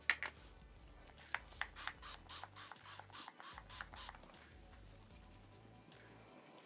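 A quick series of about ten short bursts of makeup fixing spray in steady rhythm, close and fairly quiet, with no talking.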